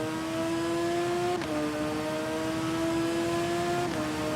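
A motorcycle in the TT Isle of Man racing game accelerates hard out of a hairpin after engine braking down to first gear, its steady engine whine climbing and stepping through two upshifts, loud and close.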